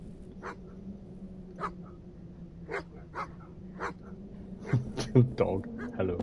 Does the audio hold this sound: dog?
yes